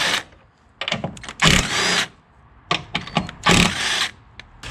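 A power tool zips off the 14mm nuts on the strut top of a Lexus GS, firing in short loud bursts with quiet gaps between.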